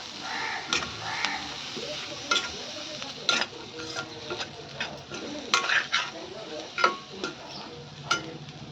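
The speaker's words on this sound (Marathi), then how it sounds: "दाणे घालून घेऊया आणि छान या मसाल्यांवर परतून घेऊया" Lima bean seeds are stirred in a pan of spice masala, with repeated scraping clicks of a spatula over a faint sizzle, while birds chirp in the background.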